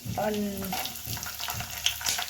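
Cinnamon, cloves and cumin fry in a pan while a spoon stirs them, giving soft repeated scraping strokes over a faint sizzle, with a voice briefly heard at the start.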